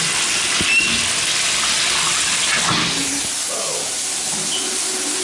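Hot water gushes steadily from a tap, a loud continuous hissing rush with a few faint clunks, no talking.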